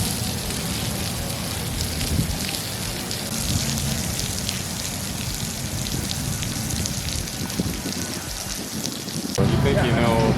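Steady rain falls on an outdoor motorcycle riding course, a continuous dense hiss of drops hitting the surface that carries on throughout, with a brief louder change near the end.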